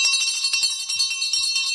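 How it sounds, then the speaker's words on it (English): A hand bell rung by a radio host on a Sunday afternoon show, four bright metallic rings in an even rhythm, close and clear with a shimmering tone. "Where's my bell?"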